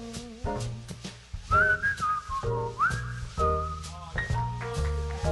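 A person whistles a little tune during a jazz quintet performance, clear melodic whistled phrases rising and falling over band accompaniment with steady rhythmic backing.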